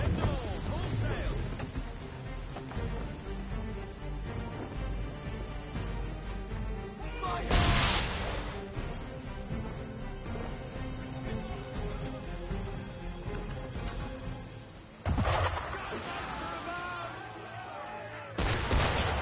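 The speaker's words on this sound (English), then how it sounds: "Why is he shooting at us?" Ship cannon fire in Assassin's Creed 3, a few heavy booming blasts spaced several seconds apart over a steady bed of sea and game sound, with voices talking between the shots.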